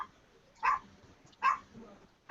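Two loud dog barks a little under a second apart, close by, with quiet background between them.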